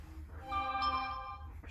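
A telephone rings in a room, a steady electronic tone with stacked harmonics sounding for about a second, moderately loud over a low background hum.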